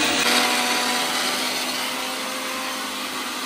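A mixer grinder grinding batter runs continuously with a loud, steady whirring drone, gradually easing slightly in volume.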